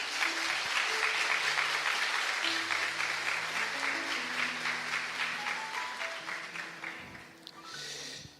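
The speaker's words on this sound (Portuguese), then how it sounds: "Vamos aplaudir a palavra de Deus." A church congregation applauds after a scripture reading, a steady wash of clapping that fades slightly before a short swell at the end, with faint musical tones underneath.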